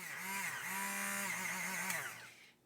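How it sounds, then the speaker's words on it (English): A high-pitched stick blender motor whirs steadily with a wavering pitch, blending mushroom soup in a pot, then winds down and stops. "This here is a stick blender."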